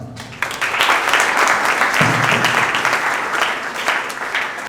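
Strong round of applause from a debate audience, dense and steady clapping that fills the room for several seconds at a close, even level.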